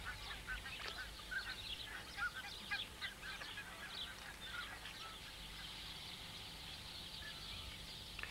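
Ringed teal and Raja shelduck calling, faint and distant: a scatter of short, reedy duck notes repeating irregularly over a soft, steady outdoor hiss, with no voices.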